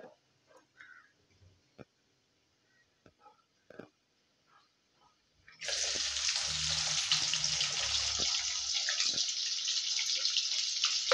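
Cumin seeds hit hot oil in a kadai and burst into a loud, steady frying hiss that runs to the end, after a few seconds of faint clinks and rustles.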